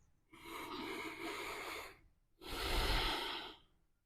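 Two slow, audible breaths close by, a long exhale of about two seconds followed after a brief pause by another breath that grows stronger, taken during a yoga exercise for knee pain, with no talking.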